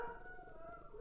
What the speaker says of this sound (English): sorry about the dog barking in the background